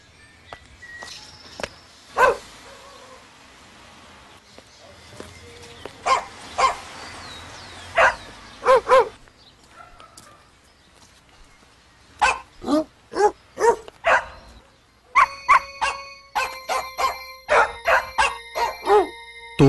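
Several dogs bark in a television commercial, loud sharp barks and yips repeating in irregular bursts, then a rapid run of overlapping barks toward the end.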